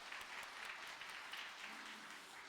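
A church congregation claims in thanks, a steady dense patter of many hands held at an even level for a couple of seconds, somewhat distant in a large room.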